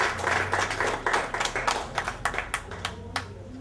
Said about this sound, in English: please give our Honorable Premier a hearty round of applause